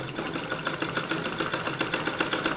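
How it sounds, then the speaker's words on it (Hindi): Close, continuous rattling hum of a sewing machine running a straight stitch on a kurti, with a fast, even needle rhythm throughout and no voices. "अब उसके बाद यहाँ से मैं सीधी सिलाई लगाऊंगी"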